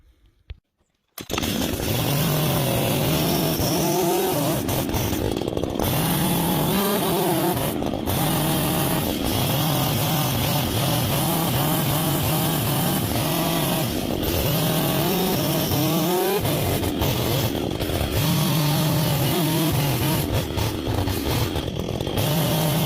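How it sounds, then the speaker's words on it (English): A chainsaw cutting a notch into a log for a handcrafted log cabin truss, roaring loud and close without a break, its pitch rising and dipping as the bar bites into the wood. "the first thing I'm going to do is cut this section out"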